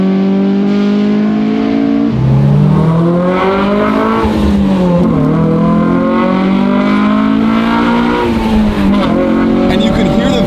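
Honda S2000 engine revving loudly with its exhaust valves open, a deep, bassy tone climbing and falling in several sweeping pulls, close and continuous throughout.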